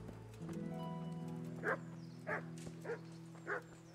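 Dog in the medieval village of Kingdom Come: Deliverance barking four times in an evenly spaced series, clear over a steady droning music bed and ambient hum.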